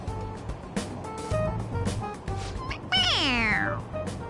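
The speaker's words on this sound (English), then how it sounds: "It meows when you press on its head." Several short electronic meows chirp from a toy cat pressed on its head, over background chatter, ending in a long, loud descending meow; people talk softly throughout.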